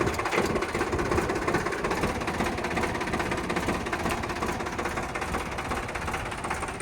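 A 2015 Sonalika RX 60 Sikandar 50 hp tractor engine runs steadily at idle, with a dense, continuous mechanical rumble and rattle from start to finish and no voices.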